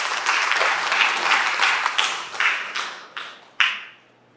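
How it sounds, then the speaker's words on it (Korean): Audience applause at a Christian book launch event, sustained dense clapping from a crowd that thins out and fades over several seconds, ending with a few scattered final claps. "나오실 때 나만 큰 박수로 환영하겠습니다."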